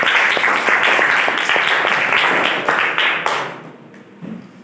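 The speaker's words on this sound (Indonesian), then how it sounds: "tepuk tangan untuk kalian semuanya" A class of junior high school students applauds together in a room, a dense, loud burst of clapping that holds for about three seconds, then thins out and fades to a few scattered claps.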